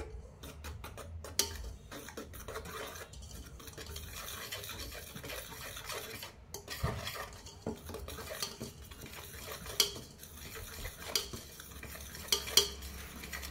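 Gulab jamun premix cake batter is mixed in a bowl with a spoon or whisk, a continuous close scraping and tapping against the bowl's sides with occasional sharper clinks.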